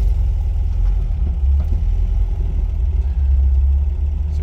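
A 1969 MGB convertible's engine running low and steady as the car pulls off, a close, even rumble with slight fluctuations and no talk.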